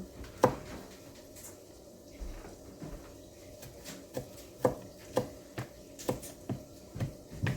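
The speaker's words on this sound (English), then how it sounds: "you just chop them up into small pieces. You know, use your knife" Potatoes are chopped with a knife on a board for homemade potato bacon soup, giving a series of sharp, close knocks in an uneven rhythm with faint background noise and no talking.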